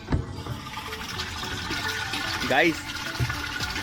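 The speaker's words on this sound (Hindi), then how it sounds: "ये है थर्ड फ्लोर पे पानी का प्रेशर" Water from a rooftop tank gushing under pressure from a pipe on the third floor of a home, a loud continuous rush with a voice talking briefly over it.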